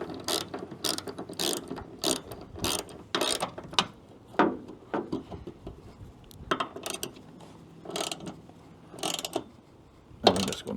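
A hand ratchet clicks in quick repeated bursts as it snugs a nut on a hood piston mount of a 4x4 Sprinter van, close and loud, the rapid pawl ticking pausing briefly between strokes with no talking.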